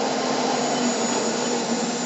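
A drill bores into wood with a 1 3/8 inch Forstner bit, making a loud, steady whirring grind that runs unbroken from start to finish with no voices.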